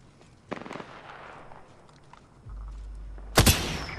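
Gunfire in the Apex Legends video game: a sharp burst of shots, a steady rumble underneath, then a loud close crack with a short ringing tail near the end.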